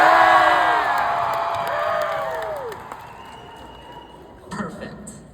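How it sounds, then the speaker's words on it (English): A graduation audience cheers and shouts loudly at a salutatorian speech, whoops and yells fading over a few seconds before a brief renewed burst near the end. "all I want you to do is make some noise and cheer as loud as you can"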